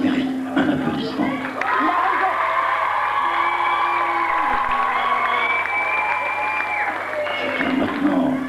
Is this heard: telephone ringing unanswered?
no